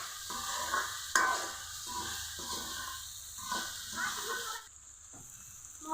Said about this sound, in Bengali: মশলা দিয়ে কিছুক্ষণ কষিয়ে নিয়েছি।